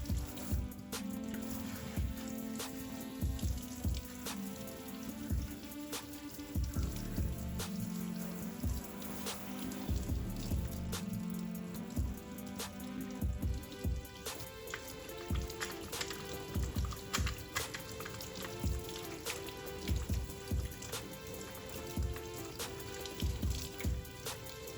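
Cold tap water rinses the plastic brew group of a Philips coffee machine, a steady quiet stream splashing and trickling with irregular drips and clinks throughout.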